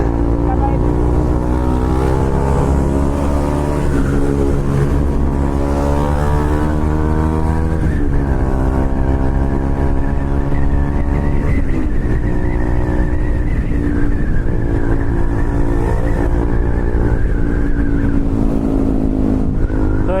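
KTM Duke motorcycle with an aftermarket exhaust ridden on the road, a loud continuous engine drone with shifting pitch as it revs up and down, steady and close throughout.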